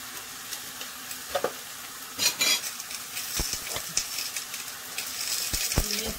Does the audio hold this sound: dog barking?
no